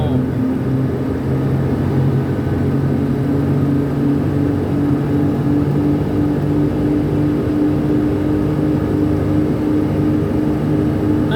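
Hino heavy truck's diesel engine running at high revs under engine braking on a steep downhill descent, a steady loud low drone with harmonic hum throughout, heard from inside the cab.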